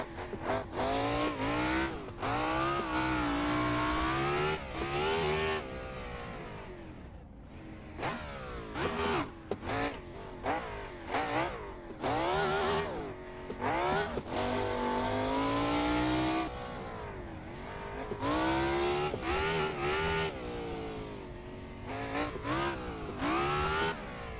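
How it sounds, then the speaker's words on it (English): A NASCAR stock car drifts in the racing game Assetto Corsa. Its engine revs loud and close, surging up and down in long sweeps between throttle lifts, with tire squeal throughout and no voices. "The NASCAR actually drifts better than I expected it to."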